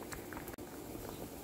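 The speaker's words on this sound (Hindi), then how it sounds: "चावल बॉयल हो गए, अब हम इनका पानी ड्रेन करते हैं।" Hot water from boiled rice for sweet zarda pours off through a strainer, a close, steady splashing patter with one brief break midway.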